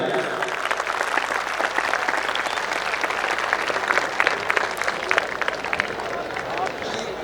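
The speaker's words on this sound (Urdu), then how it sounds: "پہلے آج کے اس انتظام کے لیے زوردار تالیاں بجائیے۔" Audience applause fills an annual dinner at a college campus grand event, loud and sustained clapping from a large crowd throughout, with some cheering and crowd noise mixed in.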